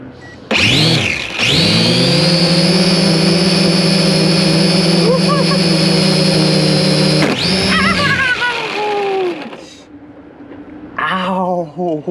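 Propellers of a cheap $60 Walmart drone whir at full throttle, a loud, steady high-pitched buzz lasting several seconds that rises at spin-up and dies away, then briefly spins up again near the end.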